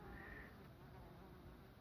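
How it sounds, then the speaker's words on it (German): Faint, steady buzzing hum of honey bees flying and landing at a hive entrance during suspected robbing, a continuous low drone with no voices. "die Bienen landen."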